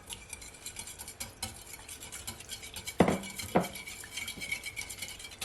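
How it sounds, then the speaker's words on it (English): Butter and sugar are mixed in a bowl for rum and raisin pancake batter, a soft repeated scraping and stirring with two sharper clinks of the utensil against the bowl midway, fairly quiet throughout. "I'm gonna mix it all in"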